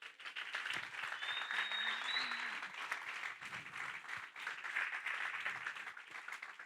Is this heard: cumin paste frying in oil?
no